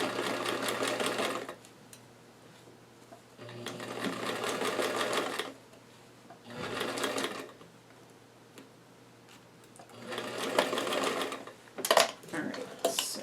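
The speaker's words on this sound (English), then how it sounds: "I'm sewing past them." A sewing machine stitches a doll's rose dress in three or four bursts of rapid running separated by pauses, close up and fairly quiet.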